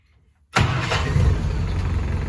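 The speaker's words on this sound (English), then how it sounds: "showing you what it sounds like now with the new starter" A 1965 Jeep CJ5 fitted with a new starter fires up almost instantly after a short silence, then settles into a loud, steady rumbling idle close to the listener.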